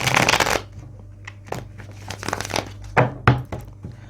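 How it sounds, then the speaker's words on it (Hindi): Tarot cards being shuffled by hand, a quick riffling burst at the start followed by scattered soft flicks and taps of cards, close and clear. "चलिए पहले एक बार शफलिंग कर लेता हूं कार्ड्स की"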